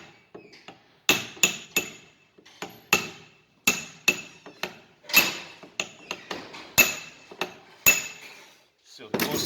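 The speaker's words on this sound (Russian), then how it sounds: "Тоже ее чуть-чуть зубильчиком." A small chisel strikes a Toyota Prius steering rack about a dozen times, each a sharp, ringing metallic tap, loud and close, spaced in an uneven rhythm with brief quiet gaps.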